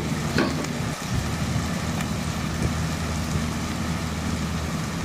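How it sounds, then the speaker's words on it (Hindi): Ginger, garlic and onion paste frying in a pan while being stirred, a continuous close sizzle with occasional scraping and knocking of the spoon, no talking. "2 बड़े चम्मच हम अदरक लहसुन और प्याज का पेस्ट डालेंगे, और इसको अच्छे से चलाकर भूनेंगे"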